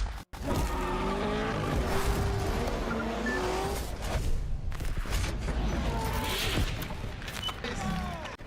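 Drift cars at Rad Torque Raceway during Spec-D qualifying scream through long, loud tire squeals over roaring engines, the skids rising and falling continuously at close range with crowd noise beneath.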